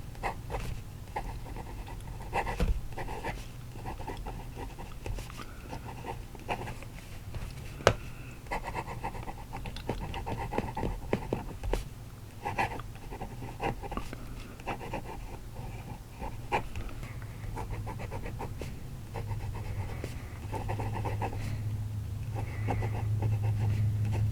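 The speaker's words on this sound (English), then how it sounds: "so I think you can hear that this nib has some feedback" HongDian N6 black fountain pen with a nib that has noticeable feedback, scratching steadily across paper as someone writes, a soft continuous scratchy texture with small strokes and taps, close and fairly quiet throughout.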